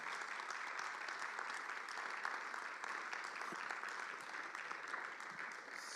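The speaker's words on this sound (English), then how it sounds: "let's just give her a round of applause" Sustained audience applause fills the whole stretch, a dense steady clapping from a crowd at a gathering with no voices standing out.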